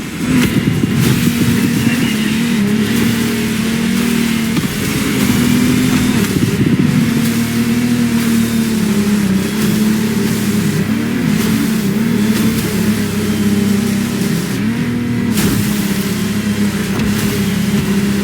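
Powerful racing boat engines in the video game The Crew Motorfest whine and roar continuously, the pitch rising and dipping as they rev, loud and close with no talking.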